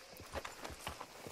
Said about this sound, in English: Alright, hitch the horse.